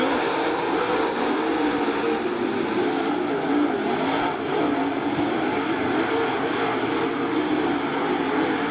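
Race cars roar away at the green flag for a heat race at Attica Raceway Park, a loud, dense, sustained engine drone with no break, heard from trackside.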